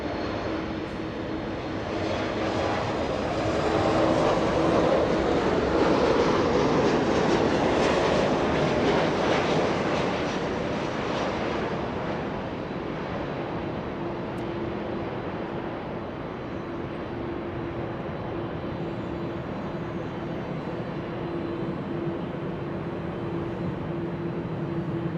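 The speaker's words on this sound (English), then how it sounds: "Delta Airlines, a 767. I'm pretty sure that one arrived in the south." A Delta Airlines Boeing 767 jet at Los Angeles International Airport, a broad engine roar that swells to a peak over several seconds and then fades into a lower steady rumble, heard from some distance.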